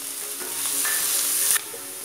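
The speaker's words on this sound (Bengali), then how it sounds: "আলুটা ভাজা হয়ে গেছে" Potatoes fry in oil in a home kitchen, giving a steady, close sizzle that swells midway and then drops a little, broken by a few light stirring knocks.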